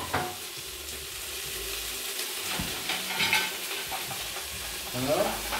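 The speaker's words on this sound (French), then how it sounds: "je vais faire revenir mes légumes, mes carottes et mes oignons" Carrots and onions sautéing in a pan give an even sizzle with scraping stirs and clatters that swell louder toward the end.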